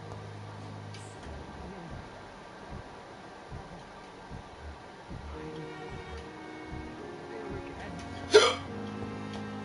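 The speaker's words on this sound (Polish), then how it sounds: "Czkawka mi dopadła." A person hiccups repeatedly while playing the video game Vampyr, soft rhythmic catches spaced every second or so over low game background noise.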